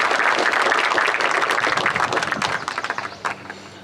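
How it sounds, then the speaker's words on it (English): Students and guests at a school commencement ceremony give a round of applause: dense, steady clapping from many hands fills the room, then thins into scattered individual claps before fading out. "So students, please give a big round of applause to"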